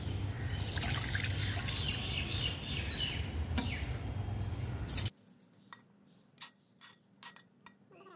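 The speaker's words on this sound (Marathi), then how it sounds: "आपण हे पाणी काढून घेऊया" Cooking water pours off pressure-cooked lentils being readied for puran poli filling, a steady rushing splash for about five seconds that stops abruptly, leaving quiet room tone with a few small clinks and taps.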